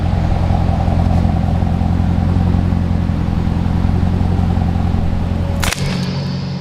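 A 2007 Corvette C6 Z06 with fresh aftermarket AI cylinder heads, a K&N intake, a Borla exhaust and a tune idles loud and steady in a shop, a deep continuous rumble that cuts off abruptly near the end.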